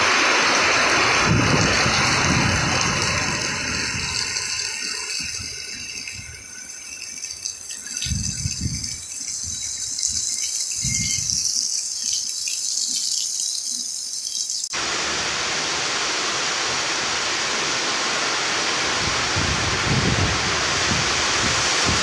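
Steady rain falls in Korat (Nakhon Ratchasima), Thailand, with a broad hissing wash, occasional low thumps and rattles mixed in, and no voices.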